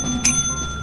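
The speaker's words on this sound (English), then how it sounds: "Yes, ring that bell." In the video game Lethal Company, a bell gives one short, bright ding over a steady hum of background noise.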